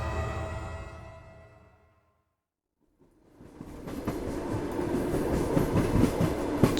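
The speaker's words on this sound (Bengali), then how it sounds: "ছুটে চলেছে কোল্ডফিল্ড এক্সপ্রেস।" A fading musical tone gives way to a second of silence, then the Coalfield Express rumbles in on its rails, a loud rolling clatter of wheels that builds and stays dense until the end.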